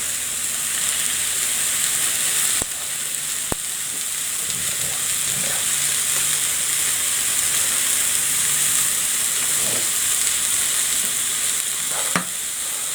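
Smoked bacon sizzles loudly and steadily in a pan, a bright continuous crackle with a few sharp clicks and light scraping.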